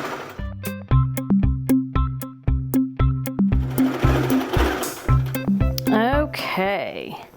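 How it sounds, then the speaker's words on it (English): A sewing machine stitches fabric strips together for a quilt in quick, steady bursts of rhythmic stitching, close and loud, with a brief whirring change near the end. "we're going to sew strips together."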